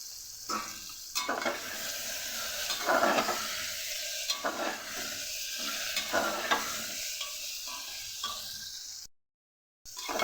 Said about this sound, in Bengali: আমার আলু আর পেঁপে হালকা করে ভাজা হয়ে গেছে